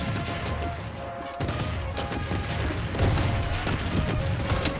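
Missile bombardment in the shooter Blood Strike rumbles on as a steady wash of booms and blasts, with repeated sharp impacts standing out from a constant loud background of explosions and gunfire.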